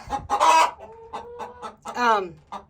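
A broody hen clucks and squawks in agitated bursts, close by, as someone reaches under her for the eggs; a drawn-out protesting note rises among the sharp clucks.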